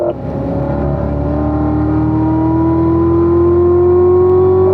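A race car engine holds a loud, steady drone on a circuit as it goes into the first corner, its pitch climbing slowly and evenly with no talking.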